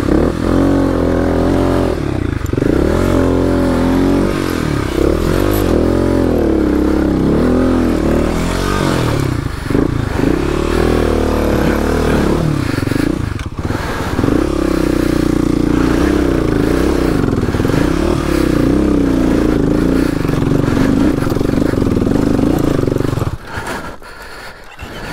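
A Kawasaki KLX250S dirt bike on the Steel Bender trail in Moab, Utah roars loudly and steadily, revving up and down close by before the engine suddenly cuts out as it stalls near the end.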